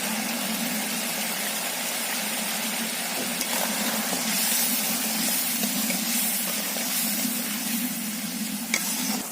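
Spice paste frying steadily in a pan as sour yogurt is stirred in, giving a continuous broad sizzle with faint scraping stirs throughout, no talking, for a vegetarian jackfruit biryani.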